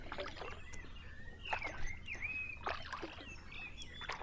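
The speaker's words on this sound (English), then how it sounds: "As you can probably hear, the birds are in fine fettle." Spring birds sing along a river in Tonbridge, Kent, as a kayak drifts on the water: clear whistled phrases and chirps rise and fall at a moderate distance over soft background ambience, with no talking.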